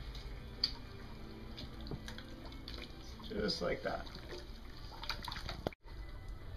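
Plaster and water mixture stirred in a container for an orthotic positive cast, giving soft wet sloshing and scraping close by, with a person talking briefly over it.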